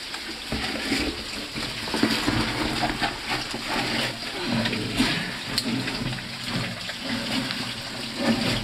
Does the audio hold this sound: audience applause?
no